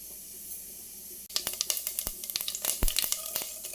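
Small seeds crackle and pop in sizzling hot oil, a quick irregular patter of sharp snaps over a steady hiss, close up.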